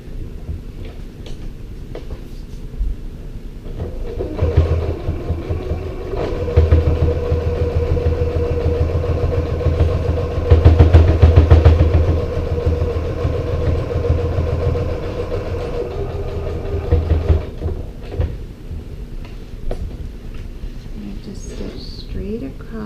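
A sewing machine stitches the corner of an oversized cosmetic bag with a zippered top, a low steady mechanical hum that swells and drops through the middle, with a person talking around it.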